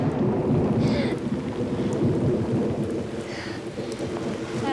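Steady, heavy rain patters continuously, with low thunder rumbling underneath throughout.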